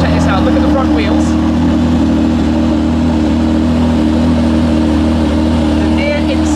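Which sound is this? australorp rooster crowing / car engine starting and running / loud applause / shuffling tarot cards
car engine starting and running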